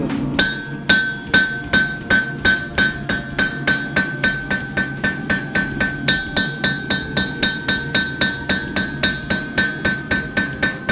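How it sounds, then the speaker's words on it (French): A ball-peen hammer strikes metal in a steady, rapid rhythm, dozens of bright ringing blows close by as the piece is shaped, with no talking. "je prends un marteau à boule ronde, un marteau américain. Là, je vais venir diriger le métal."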